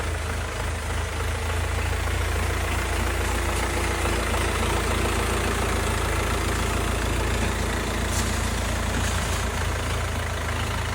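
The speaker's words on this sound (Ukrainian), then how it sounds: "Двигун гарно рівно працює, 4 циліндра," The four-cylinder diesel of a 2025 Fighter T-404 mini tractor with a cab idles steadily, a continuous, even low rumble heard close up with no talking.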